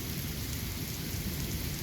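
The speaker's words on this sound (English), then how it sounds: "now we just have a severe thunderstorm" Heavy rain pours steadily during a severe thunderstorm in Ohio, a dense continuous hiss with low rumbling underneath, loud and close with no voices.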